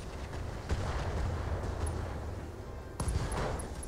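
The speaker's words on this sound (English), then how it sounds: "That's an MRM explosion." An MRM missile explosion in the mech video game Battletech with the Roguetech mod: a brief sharp blast followed by rumbling, with a second burst near the end amid low battle noise.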